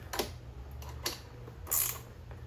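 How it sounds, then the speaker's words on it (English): A ratchet clicks in short bursts as bolts are tightened on a mechanic's roller seat, quiet and close over a low steady background hum. "So we're just gonna tighten all these down, and we'll be done."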